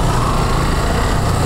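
A motorbike on a rain-soaked hill track in Rangamati revs hard while skidding, giving a loud, continuous high-pitched engine whine with no break and no talking.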